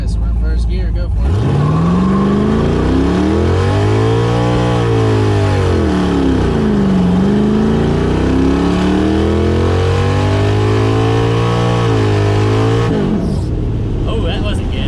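Loud car engine in first gear revving hard through a long burnout, tires spinning and smoking, pitch climbing, dipping and climbing again before cutting off near the end; a voice speaks briefly under the roar.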